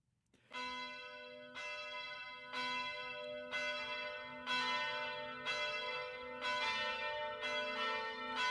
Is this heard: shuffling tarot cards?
no